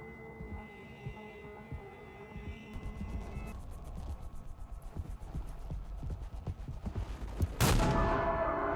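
A single gunshot fired in the horror video game Mouthwashing, a sharp loud crack near the end that rings out over a dense, throbbing low background hum with rapid rhythmic pulses.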